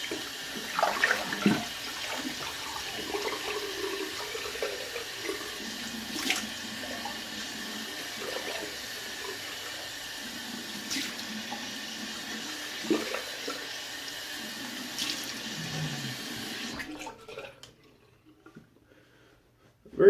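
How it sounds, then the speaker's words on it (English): Water runs steadily from a tap as a cold rinse after shaving for several seconds with a few splashes and clinks, then cuts off near the end, leaving quiet. "And cold water rinse."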